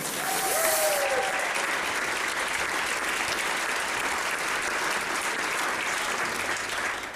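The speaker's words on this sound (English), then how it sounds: "For the first time in Aspen, on bass, a great applause to Gabriele Tormen." An Opera House concert crowd gives sustained, loud applause for the bass player at a tribute show, a thick wash of clapping that holds steady while a brief whistle rises early on.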